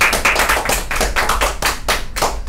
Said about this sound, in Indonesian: Kasih tepuk tangan dulu coba.